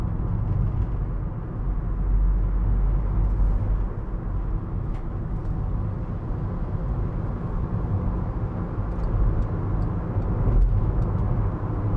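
Volkswagen Caddy 1.6 TDI C20 Startline panel van, a ply-lined cargo area with no sound deadening, cruising on a motorway: a steady, loud low-frequency road and engine drone with tyre roar, continuous throughout, no talking.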